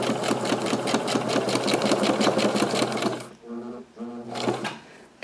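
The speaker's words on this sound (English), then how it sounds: "Just holding these edges together while it sews" A sewing machine stitches paper edges together with a fast, even mechanical chatter for about three seconds, then stops as a voice speaks briefly.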